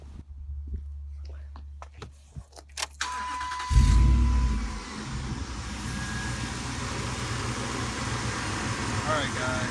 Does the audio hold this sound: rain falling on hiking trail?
no